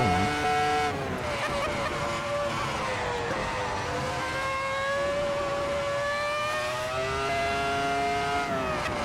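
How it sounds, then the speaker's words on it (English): A car engine in the racing game Assetto Corsa drones at high revs for several seconds, its pitch climbing and dipping as it shifts, loud and continuous with no voices. "Just hear the engine rolling."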